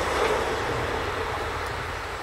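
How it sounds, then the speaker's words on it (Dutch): A loud, steady rumbling roar of a passing train, broad and continuous, with faint rattling throughout. "er komt de trein voorbij."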